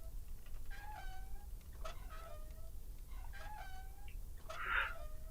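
A cat in the Deponia Doomsday video game gives a few short, thin meows in a row, faint against a low steady background hum.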